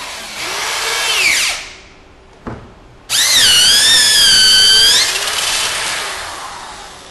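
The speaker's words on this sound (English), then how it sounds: "The drill bit I used was 1 1/8 inch" A power drill with a 1 1/8 inch bit whines loudly boring a hole in an arcade control panel, winds down, then a short knock before the drill starts again with a high rising pitch, runs for seconds and fades.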